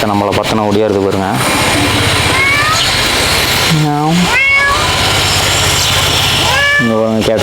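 Cats in a netted enclosure at a bird park in Ooty meow repeatedly and loudly nearby, several drawn-out cries spread across the clip, with a person talking throughout and steady background noise.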